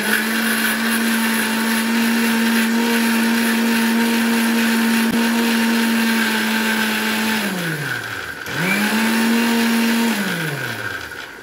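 An electric mixer grinder runs steadily, grinding onions for hair oil. It gives a loud, continuous motor whine that winds down briefly near the end and then spins back up, with no voices.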